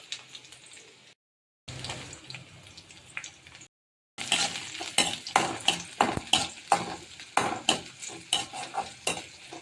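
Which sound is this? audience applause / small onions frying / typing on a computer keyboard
small onions frying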